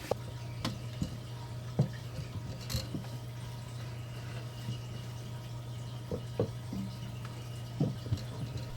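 Water being added to an aquarium tank, soft trickling and scattered drips over a steady low hum, faint and close, with no voices.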